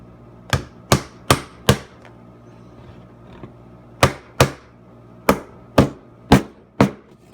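Hammer blows driving nails into a wooden beehive frame from a kit, two clusters of sharp, loud knocks, four in each, close by with no talking.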